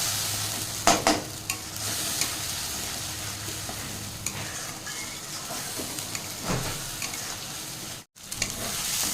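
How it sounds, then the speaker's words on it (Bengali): Spices with turmeric sizzle and hiss in hot oil in a pan while being stirred, a steady frying noise close by with scraping stir strokes throughout and a brief dropout near the end. "এখন ভালো করে কষিয়ে দেবো"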